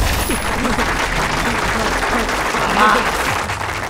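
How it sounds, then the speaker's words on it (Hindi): Crowd clapping on command in a Hindi-dubbed South Indian film scene, a steady wash of applause lasting throughout, with voices talking over it. "चलो ताली बजाओ।"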